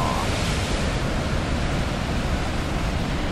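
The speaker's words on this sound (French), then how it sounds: "Les vagues qui viennent se fracasser sur les rochers." Atlantic waves breaking against rocks on the coast at Biarritz make a steady, dense roar of surf that continues without a break, fairly loud and close.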